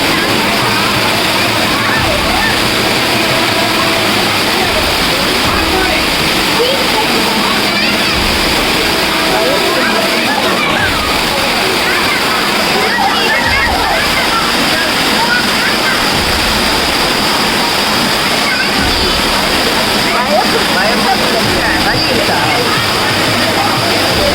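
Rushing water at Thirumoorthy waterfall near the Panchalingam shrine in the hills, a steady loud broadband roar throughout with people talking over it.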